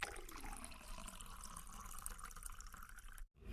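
Running water from a tap, a steady close trickle filling a sink, continuous for several seconds before cutting off abruptly near the end.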